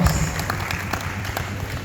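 A convention audience bursts into sustained applause, a dense wash of many hands clapping steadily throughout, fairly loud and close with no single clap standing out.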